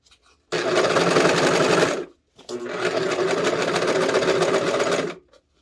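An industrial serger sews fabric around a curved seam for a skirt, running loud and steady in two bursts with a short pause between them.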